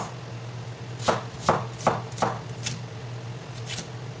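Knife chopping onion finely on a board, about eight crisp, evenly spaced cuts over a low steady hum, fading to lighter taps near the end.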